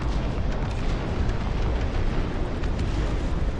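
Artillery fire in the real-time strategy game Dustfront RTS: a steady, loud rumble of overlapping booms and blasts rolling on without pause for several seconds, with no voices over it.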